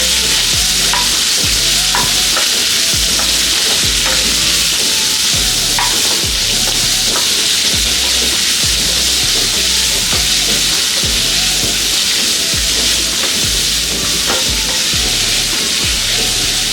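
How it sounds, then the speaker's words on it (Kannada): Onions fry in a pan for an onion palya, a dense steady sizzle broken by repeated scraping stir strokes at a regular rhythm, loud and close with no talking. "ಈರುಳ್ಳಿ ಫುಲ್ ಕಂಪ್ಲೀಟಾಗಿ ಸಾಫ್ಟ್ ಆಗಬೇಕು, ಅಲ್ಲಿ ತನಕ ಇದನ್ನು ಫ್ರೈ ಮಾಡ್ಕೊಳ್ಬೇಕು"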